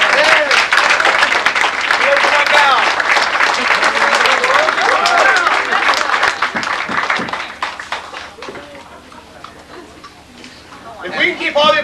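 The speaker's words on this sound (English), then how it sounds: "If we can keep all the applause down till like the very last one." Audience applause at an investiture ceremony: dense, sustained clapping fills the hall with voices talking over it, thinning out toward the end before a brief renewed burst.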